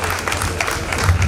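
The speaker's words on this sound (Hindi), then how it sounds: "हम लोगों का भी काम है कि हम कम से कम तालियां बजा के इनका स्वागत करें" An audience claps steadily and densely throughout, welcoming the women performers of a Shiv Mahima dance-drama staged by a Burhanpur mahila mandal, with a low hum of the hall beneath.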